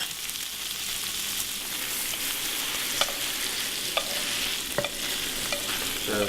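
Meat and tofu for mapo tofu sizzling in a hot pan with steady frying hiss, while a utensil stirs and scrapes, a few sharp clinks standing out near the end.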